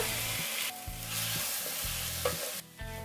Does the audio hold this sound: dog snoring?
no